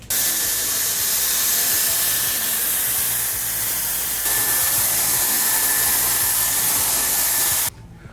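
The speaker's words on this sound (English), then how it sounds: "We're going to blow dry the sides because the top can just naturally air dry on its own." A hair dryer roars steadily at close range for several seconds while blow drying the sides of a man's haircut in a barbershop, its airflow shifting briefly before it cuts off abruptly near the end.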